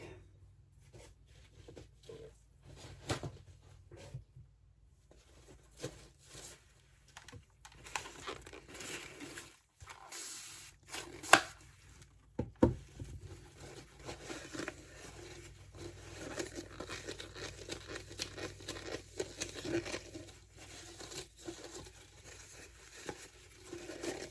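Spraying 91% alcohol and wiping a surface clean while finishing a snowflake trinket tray: soft, quiet hisses and crinkly rubbing scuffs come in irregular bursts close to the mic, with no talking.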